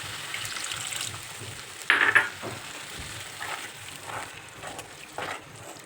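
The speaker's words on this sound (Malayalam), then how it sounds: "കുറച്ച് വെള്ളം കൂടി ഇതിനകത്ത് ഒഴിക്കുകയാണ്." Water is poured into a pan of egg curry masala, giving a short burst of splashing hiss around the two-second mark over a steady, soft background sizzle of frying spices.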